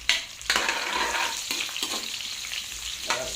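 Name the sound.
onions sautéing in a pan for adobong sitaw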